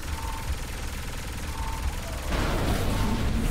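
Bombs explode in the video game Saints Row IV, a dense rumbling wash of game noise that swells into a louder, harsher burst of blasts partway through, with no voices.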